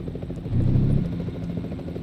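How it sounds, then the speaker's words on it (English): A helicopter overhead in the American Truck Simulator driving game, a low rhythmic rotor thump swelling briefly and then holding at a moderate level. "I hear a helicopter overhead."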